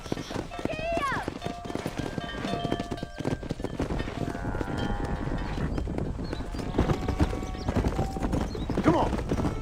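Horse hooves clip-clopping in the Western video game Red Dead Redemption, a steady rhythmic trot under game music, a whinny and background voices, with a player talking over it.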